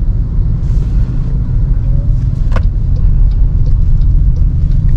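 Cabin of a Toyota Innova Zenix Q Hybrid cruising on adaptive cruise control, a loud steady low road and engine rumble with tyre noise and a brief higher whoosh midway, no talking.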